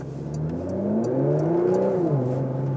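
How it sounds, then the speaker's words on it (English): A Porsche Macan GTS V6 engine revs up smoothly for about two seconds, then drops back with a burbling, close-up tone, while light ticks sound in the background. "Blop, blop, blop. That V6"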